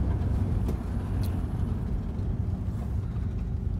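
A truck drives along the road, giving a steady, loud low-pitched rumble of engine and tyres with a few faint clicks and no talk.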